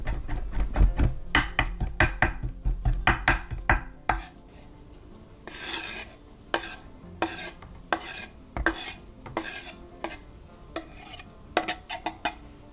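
A knife chops fresh dill on a cutting board for Bulgarian tarator cold soup, rapid rhythmic knocks at first, then slower, more scattered cuts, close and crisp with no talking.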